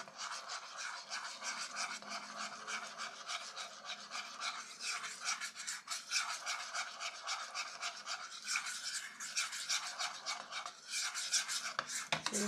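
Protein powder being stirred with water into a thick, peanut-butter-like paste, heard as a close, continuous rasping scrape with rhythmic strokes.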